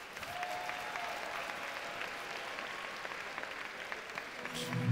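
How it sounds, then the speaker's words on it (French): Audience applause in a hall at a solo cosplay contest during a comic and manga convention, hearing a Squirrel Girl entrant from the Marvel universe, a brisk steady clapping that holds throughout and grows louder at the close. "On l'applaudit bien fort, Squirrel Girl de Univers Marvel."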